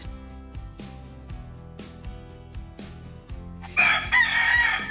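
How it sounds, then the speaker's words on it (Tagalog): A rooster crows loudly near the end, a harsh drawn-out call rising over steady background music with repeated beats. "Ayun, manok na naman."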